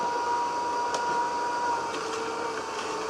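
A juicer pressing lemon and cucumber pieces gives a steady mechanical whine and hum, with a few soft clicks and crunches as the produce goes through, heard alone at moderate volume.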